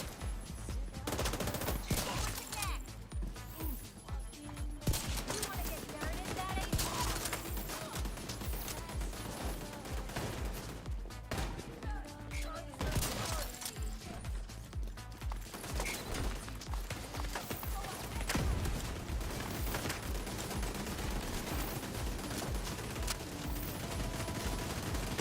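Enemy turret gunfire in The Division 2 during a firefight: dense, sustained bursts of automatic shots and impacts fill the whole stretch, loud and close, mixed with other game noise.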